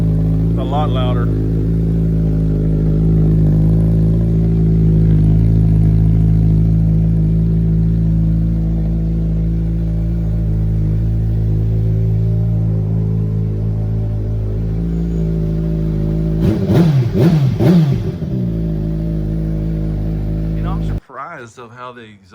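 A 2025 Suzuki Hayabusa fitted with dual M4 slip-on exhausts rumbles loudly up close, swelling with revs before settling back and then shutting off. A person talks briefly near the end.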